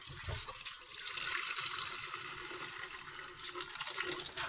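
Water pours into an electric kettle stained by tea and milk, a steady close splashing trickle lasting several seconds with no talking.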